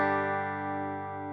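Clean electric guitar recorded DI straight into Logic with no plugin: one sustained chord ringing out and slowly decaying, dry and alone.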